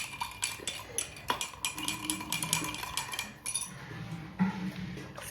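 A spoon stirs lemon sherbet with a little salt in a glass, giving steady, close, bright clinks and scrapes that continue throughout.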